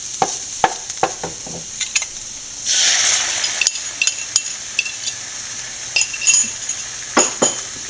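Beaten, lightly salted egg hits a hot pan with broccoli for a thoran, bursting into a brief loud sizzle, surrounded by sharp clinks and taps of a utensil against the pan.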